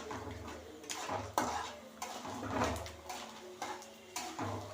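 Onions being stirred in a frying pan give repeated clanks and scrapes of a utensil against the pan, in irregular bursts at close range with no talking; little sizzle comes through.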